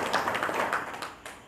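A village satsang audience claps to congratulate someone, a brief patter of hands with a few distinct claps standing out, moderately near and not very loud.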